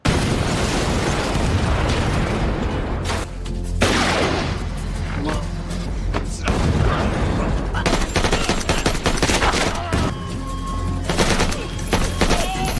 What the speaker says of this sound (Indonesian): Saat didekati petugas, mobil Sofia langsung meledak.